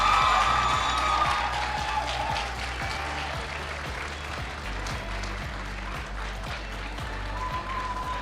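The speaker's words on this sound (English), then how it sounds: "Can we give them another round of applause and up until they're on stage?" A large audience applauds the competition winners at a national ICT summit as they come on stage. The clapping is dense and sustained for the whole stretch, with a steady low pulsing underneath.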